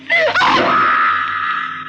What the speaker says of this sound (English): What are you yelling about now?